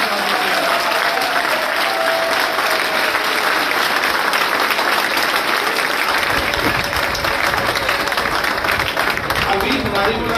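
An audience at a coaching centre gives loud, sustained applause to welcome a visiting mahant, dense clapping filling the whole stretch without letup while voices sit beneath it.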